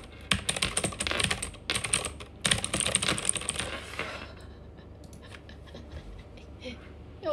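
Fast, clattery typing on a noisy computer keyboard comes in dense bursts for about four seconds, loud and close. It then gives way to quieter scattered taps and room sound.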